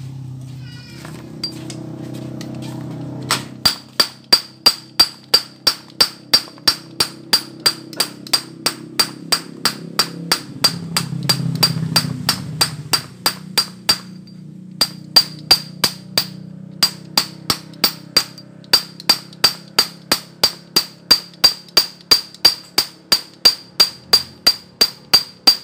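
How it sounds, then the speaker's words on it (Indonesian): Repeated sharp metal hammer strikes flatten a cam chain tensioner part on a Honda Supra 100cc motorcycle, landing in a steady, fast rhythm with brief pauses and a low hum beneath. "kita pukul bagian di sini agar"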